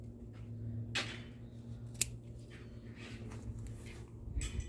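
Scissors snip plant stems at the base in a garden, a few crisp isolated cuts spaced over several seconds against a steady low outdoor hum.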